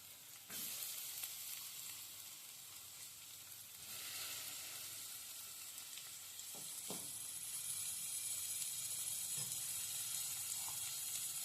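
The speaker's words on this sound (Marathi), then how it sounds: "आता थोडेसे परतून घ्यायचे कांद्यामध्ये" Dried prawns sizzle in a pan with onion and tomato masala, a steady soft frying hiss broken by a few spatula knocks and stirring scrapes, with no talk.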